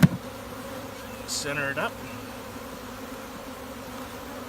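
Honey bees buzzing around an open hive during a queen replacement: a steady, low, continuous hum sits under the scene, with a brief spoken phrase and a few handling noises.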